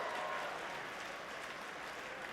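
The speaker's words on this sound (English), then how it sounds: "Clap if you can." Faint, distant crowd clapping at a NASCAR awards show, a steady soft wash of applause with no individual claps standing out.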